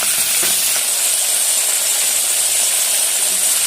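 Crushed turkey berries fry in hot oil for a chutney, giving a loud, continuous close-up sizzling hiss with no pauses, no talking.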